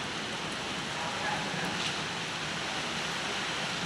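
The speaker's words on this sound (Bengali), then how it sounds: "বৃষ্টি পড়ছে" Steady rain pours down during a thunderstorm, a dense, even hiss with no breaks, heard from just outside a house.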